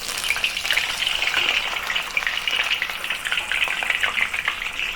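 Fish fries in a hot wok for Chinese braised fish, giving a steady, close, crackling sizzle that stays loud and even throughout, with no talk.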